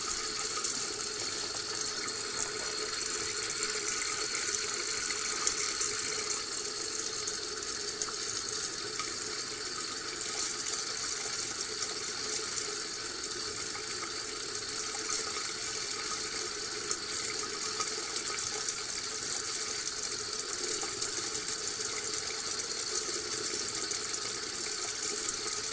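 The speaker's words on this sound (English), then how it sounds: "So the water is going straight from the tap down into the sink" Tap water streams steadily into a lab sink through a vacuum setup with a Buchner filter and Erlenmeyer flask, a continuous loud hiss and rush with no pauses.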